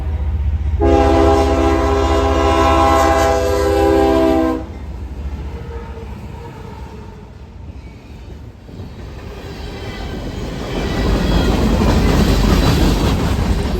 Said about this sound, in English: Great horn show.